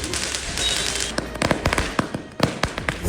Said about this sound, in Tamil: பட்டாசு வெடிக்கலாமா?